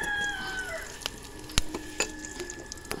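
Spices tempering in the pan just used for frying pirandai chutney give soft sizzling with a few sharp crackles and pops, fairly quiet and close, no talking.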